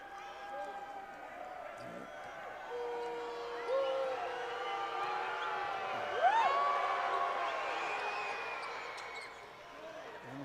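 A college basketball arena crowd at Fresno State hosting Utah State in 2023 makes a steady, moderately loud murmur with whistles and whoops during a free throw, while a commentator talks over it.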